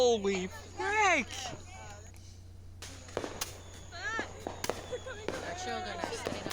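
Backyard Fourth of July fireworks: a couple of whistling rockets at the start, followed by a run of sharp pops and crackles scattered unevenly, moderately close.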